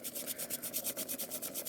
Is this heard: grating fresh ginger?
yes